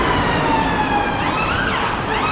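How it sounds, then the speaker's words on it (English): An ambulance siren wails in the street, loud and close, its sweeping tones rising and falling steadily over road noise. "There's an ambulance coming."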